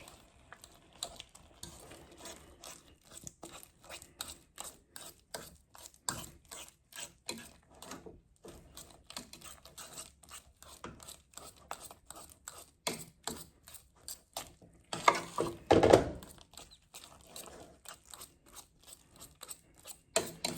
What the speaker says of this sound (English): I just transferred it into a skillet so that way it will be easier for me to mash.